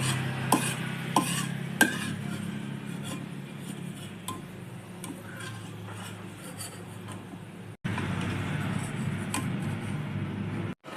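Raisins frying in a pan, a low steady sizzle with a few light stirring clicks early on and a brief drop in the sound near the end.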